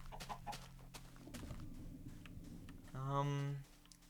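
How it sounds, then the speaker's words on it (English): A chicken in the video game Minecraft gives a short, clear cluck near the end, following a stretch where someone talks over faint game sounds. "And a chicken? I'll leave the chicken alone."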